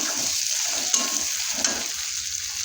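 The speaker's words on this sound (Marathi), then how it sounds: "पनीर टाकलं बघा चांगलं हलवून घ्यायचं" Paneer cubes frying in hot oil in a pan while being stirred, a bright continuous sizzle close up with soft scraping and a couple of light clicks from the spoon.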